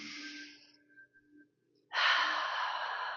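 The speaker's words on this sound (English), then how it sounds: "Deep breath in." A deep breath drawn in during a Pilates back and posture workout: a long, close inhalation that fades, a short pause, then a louder, fuller rush of air held to the end.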